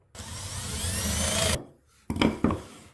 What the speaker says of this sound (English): We'll go ahead and drill a hole or two in here.